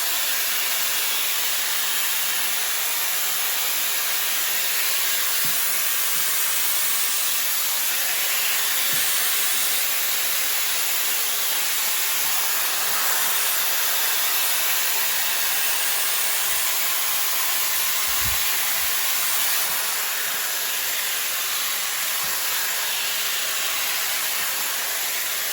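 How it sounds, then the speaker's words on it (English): Shark FlexFusion air straightener blowing on wet curly hair, a loud continuous airy hiss with a steady high whine, lasting the whole stretch with small bumps of brushing and no speech. "The way that this is drying my hair so quickly,"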